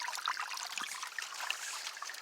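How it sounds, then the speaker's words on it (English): Water runs outdoors in nature with a steady, bright trickle and babbling that goes on continuously without any pause. It is close and moderately loud, with no voices. "next to something as simple as this, running water, you can hear it running."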